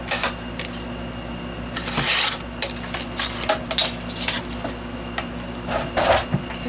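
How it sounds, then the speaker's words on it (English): Scissors cutting the edges off a paper bag mini album, a series of crisp snips and paper rustles close by over a low steady hum, with no talk. "now I'm just going to just cut the edges off"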